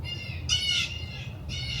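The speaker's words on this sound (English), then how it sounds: "these birds are so loud" Loud crow-like birds squawk outdoors near an art gallery outing, harsh caws in two or three bursts, close and prominent over a low background hum.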